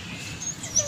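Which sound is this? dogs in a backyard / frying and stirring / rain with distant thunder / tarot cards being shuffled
dogs in a backyard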